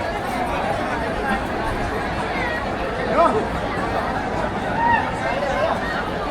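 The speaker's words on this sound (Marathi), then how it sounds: "आणि गर्दी तुम्ही बघू शकता आज संडे असून पण आज एवढी गर्दी आहे" Crowd chatter rises from a busy Sunday gathering: a steady, close babble of many overlapping voices with occasional louder bursts.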